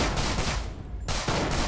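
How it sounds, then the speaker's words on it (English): Bursts of automatic gunfire from a heavy weapon in the stealth game Manhunt 2, loud and close, with a brief lull in the middle before the firing resumes. "There's another guy around here with a big boy gun."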